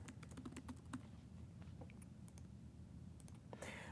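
A name is typed on a computer keyboard in a quiet room, a quick run of close, light key clicks with short pauses between bursts, no voices.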